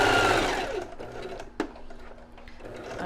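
A sewing machine stitches a seam close to the fabric's edge, whirring steadily at first and then slowing and winding down, with a brief mechanical click midway.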